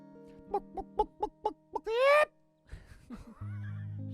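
A woman imitates a clucking chicken with her voice: a run of six short, evenly spaced clucks followed by a rising squawk, then some low talk and background music.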